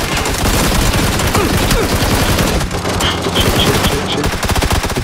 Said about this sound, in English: Get ready to shoot, yes.